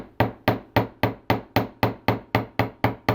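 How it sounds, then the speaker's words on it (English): A chasing hammer lightly taps wire on a steel bench block for jewelry making, about a dozen crisp, ringing strikes at an even, steady rhythm, close and clear. "we're going to get our chasing hammer and our bench block, and we're just going to lightly hammer this bottom"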